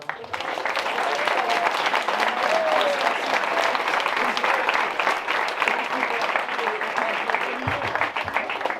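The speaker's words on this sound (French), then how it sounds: "On peut vraiment les applaudir très très fort." A crowd at a prize-giving for a classic car rally, the Legend Boucle Cévenole, applauds the volunteers, sustained loud clapping throughout with a few voices underneath.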